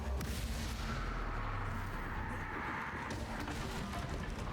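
Bombarda explosion spell cast in Hogwarts Legacy, a dense rumbling blast with a sustained roar that fills the whole moment loudly, no voices over it.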